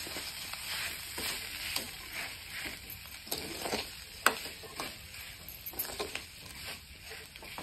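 Potato filling for mirchi vada, mixed with finely chopped coriander and salt, being stirred in a pan, giving a steady soft scraping and faint sizzle with sharp spoon clicks against the metal.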